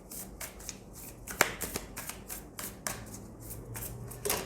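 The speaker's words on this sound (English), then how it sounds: "let me just shuffle once more" Oracle cards are shuffled by hand close up, giving a rapid series of crisp riffling bursts and soft slaps in an uneven rhythm, with no talking.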